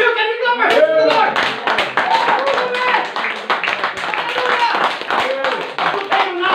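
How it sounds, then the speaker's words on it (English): A church congregation claps along during a worship service, a dense, steady patter of hands running throughout, mixed with singing or voices and music. "Can we clap our hands to the Lord?"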